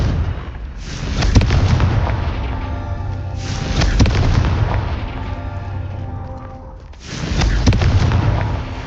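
In Hogwarts Legacy, the Confringo fire spell sets off loud, booming explosions, three heavy blasts in a row, each rumbling on in a long fiery roar.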